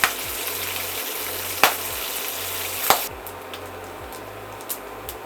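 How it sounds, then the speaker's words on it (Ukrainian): Bacon sizzles and crackles in a pan over medium heat, a steady frying hiss punctuated by a few sharp clicks and clatters. "Кидаємо на неї бекон і смажимо на середньому вогні."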